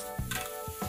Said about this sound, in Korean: 강불에서 스피드하게 이렇게 볶아주시고요